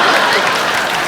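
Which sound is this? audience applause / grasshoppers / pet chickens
audience applause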